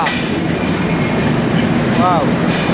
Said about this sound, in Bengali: চুয়াডাঙ্গায় দেখুন এই হলো আমাদের ট্রেন oh! একদম চলে এসেছে বেনাপোল এক্সপ্রেস ঢাকা